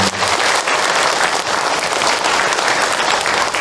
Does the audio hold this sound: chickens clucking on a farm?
no